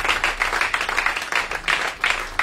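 A church congregation at a New Year worship service claps and applauds together, a dense, steady run of handclaps that swells in bursts throughout, close and lively.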